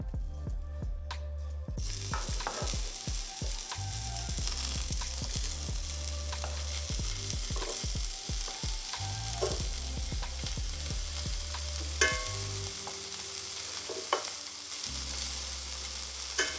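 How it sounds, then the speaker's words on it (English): Guanciale with plenty of its own fat frying in a pan without oil, a continuous close sizzle and crackle with rhythmic low knocks and rattles, a brief pause, then more frying; no speech. "it's now time to put the guanciale in this pan, and we don't need any oil or anything because there's so much fat on it"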